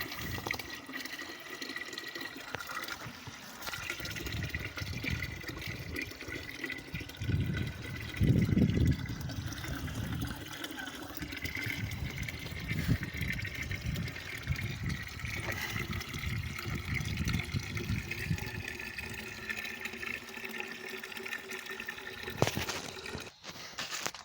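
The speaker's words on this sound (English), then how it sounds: "getting them some water" Water pours and splashes in a continuous, fairly quiet stream, with a fuller gush partway through and brief handling noises.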